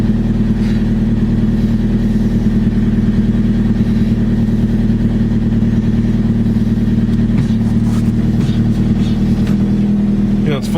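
A Toyota Corolla engine, nearly out of fuel, runs at a loud, steady idle with a deep, even drone, with a few clicks and rattles near the end.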